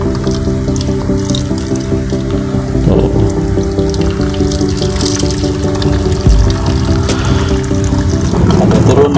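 Water trickles and drips steadily down through a freshly watered aglaonema pot with new planting media, a continuous close splashing pour with occasional louder drops.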